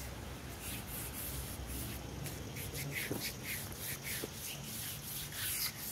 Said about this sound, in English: I like to do a light sanding.